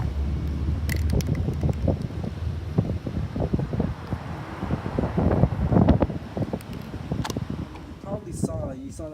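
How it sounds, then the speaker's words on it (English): Wind gusting outdoors during a Miata valve cover spray-painting job, a steady rushing buffet across the microphone with loud swells throughout, and brief clatter near the end. "it's kind of windy right now"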